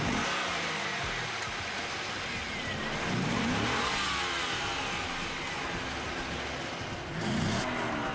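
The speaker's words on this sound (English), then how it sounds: "This just doesn't sound like a big-inch V8 muscle car." Holden Monaro V8 engine revving steadily, a continuous close mid-pitched engine note that swells and eases in a few slow waves without any voices.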